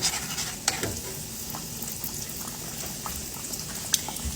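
Peach fried pies made with canned biscuit dough frying in hot oil, a steady close sizzle with a few sharp pops and crackles and no talk.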